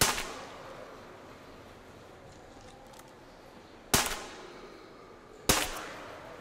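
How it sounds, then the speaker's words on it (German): Two sharp, loud gunshots in the game Metro Exodus ring out a second and a half apart over a low background hum, preceded by a fainter bang. "Oh, ein Schuss hat gesessen."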